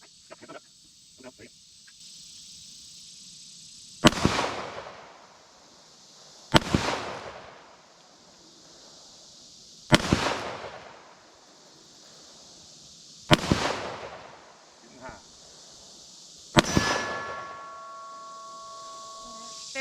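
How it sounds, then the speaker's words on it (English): Five loud, sharp gunshots from a .38 Special Smith & Wesson J-frame revolver firing standard pressure loads outdoors, spaced roughly three seconds apart, each with a sharp crack and a decaying echo over faint background insect noise. "So here's 5 shots, 38 Special."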